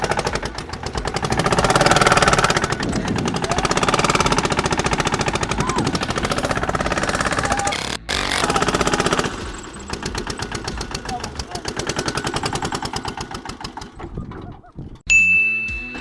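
A tractor engine labouring under load in third gear during a tractor-versus-humans tug of war, loud and rapidly pulsing, easing off toward the end.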